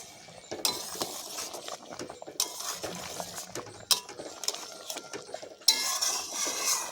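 A spoon clinks and scrapes against a pan while stirring an egg curry in coconut milk gravy, with repeated metallic knocks and soft scraping, close and fairly quiet, with no talking.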